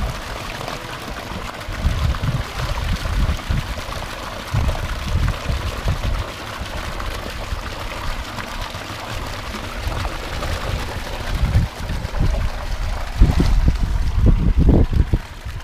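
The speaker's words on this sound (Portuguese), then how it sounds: "Mergulha na água e põe na caixa de madeira." Heads of lettuce are dunked into water for washing, giving repeated sloshing splashes in irregular bursts with outdoor background noise around them.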